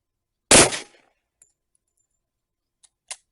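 A Rock Island Armory Tac FS HC 10mm pistol fired once at an outdoor range, a single loud sharp report that quickly decays, followed by a few faint clicks and a metallic clink.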